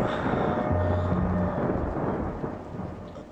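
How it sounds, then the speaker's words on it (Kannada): A thunderstorm rumbles low and heavy over steady, dense rainfall, the deep roll fading slowly as the rain continues throughout. "ಅಕ್ಕ ಮಳೆ ನೆನೀತಾ ಇದೆ ರಮೇಶ"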